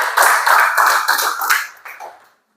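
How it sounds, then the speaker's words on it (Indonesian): A classroom of students applauds a classmate, with a short burst of close, lively clapping that fades out after about two seconds. "Kita berikan aplaus dulu untuk Mira."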